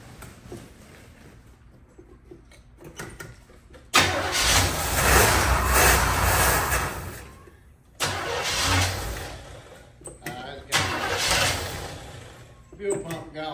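A 1975 Chevrolet Caprice engine, sitting unused for 28 years, cranks and catches in loud bursts that rise and fall, starting, stalling and restarting several times, with people talking faintly between attempts.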